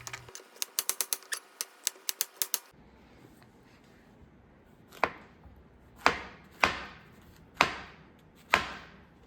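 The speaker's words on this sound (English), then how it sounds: "I'm going to cut them a little bit thicker than usual" A knife chops through brown cremini mushrooms into thick slices on a board, first a quick flurry of close, sharp taps, then five slower, deliberate thuds spaced about a second apart.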